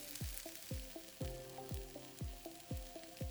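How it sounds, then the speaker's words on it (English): A ham hock frying in a pan with honey and miso gives faint, quiet sizzling with a regular, repeating crackle pattern and no voices. "starting to hear that frying sound from the pork."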